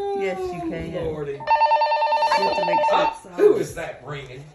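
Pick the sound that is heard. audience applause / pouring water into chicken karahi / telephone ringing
telephone ringing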